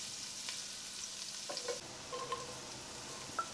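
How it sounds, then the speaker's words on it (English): Ginger and garlic sizzle faintly in hot oil in a pot, with a soft steady crackle and a few light scrapes and clinks as they are stirred. "Add the ginger, garlic into the hot oil and give them a stir."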